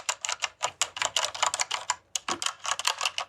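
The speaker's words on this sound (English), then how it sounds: "that's the DaVinci Resolve keyboard I used to edit. And they're loud, and these ones are cherry reds" Rapid typing on a DaVinci Resolve keyboard fitted with Cherry MX Red mechanical switches, a loud, close, uneven burst of clacking keystrokes with a brief pause midway.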